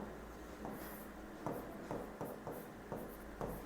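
Chalk taps and scratches on a classroom board come in short, irregular strokes at close range as an answer option is written out, with a faint background hiss and no talking.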